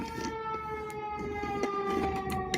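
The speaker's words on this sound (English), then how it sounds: "Did you hear that siren?" Siren wailing in the distance on a quiet morning, a sustained tonal whine held at steady pitch over low background rumble, with a few faint clicks on top.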